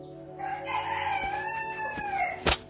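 A rooster crows in a garden, one long rising and falling call with strong harmonics, fairly close and clear, with a brief sharper burst at the end.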